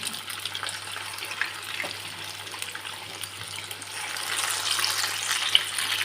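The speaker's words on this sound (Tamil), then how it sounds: "இப்போ நம்ம சிக்கனை நல்லா பொரிச்சு எடுத்துக்கலாம்" Chicken pieces fry in hot oil in a kadai, a soft, fairly faint continuous sizzle that grows a little louder toward the end, with a steady low hum underneath and no talking.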